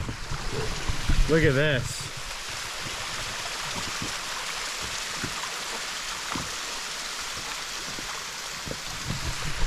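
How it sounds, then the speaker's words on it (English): A mountain waterfall pouring into a flowing stream, a steady broadband wash of water heard close and continuous throughout, with someone speaking briefly near the start. "we're coming by this beautiful waterfall"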